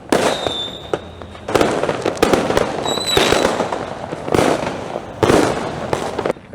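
Firecrackers explode at a Raya celebration in loud, close, crackling bursts, several volleys in quick succession with short gaps between them.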